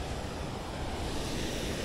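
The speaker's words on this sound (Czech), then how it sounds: "Voda, která dopadá z těch stavidel" Steady broadband rush of water falling from weir sluice gates, churning, loud and continuous, with some wind buffeting the microphone.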